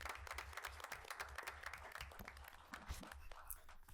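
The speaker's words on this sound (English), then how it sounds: "Let's give them a round of applause." Applause from an audience at a school board meeting honoring top students, a steady patter of many hands clapping with a low rumble of room noise, moderately distant and fairly quiet throughout.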